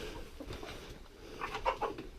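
Soft clucking and chattering from a few chickens at close range, with short bursts rising briefly near the end over a steady background hum.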